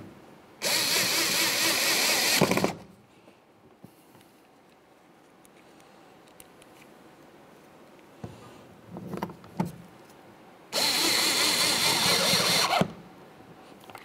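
A power driver twice drives Phillips head screws into the door of a 2005-2010 Chevy Cobalt while the power window motor is replaced, giving two loud whirring runs of about two seconds each with quiet handling noises between.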